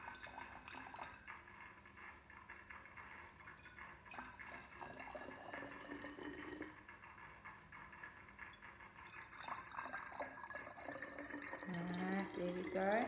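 Green-tinted water is poured into several glass bottles to tune homemade musical instruments. The low trickle and splash continue throughout, and the pitch rises as a bottle fills near the end.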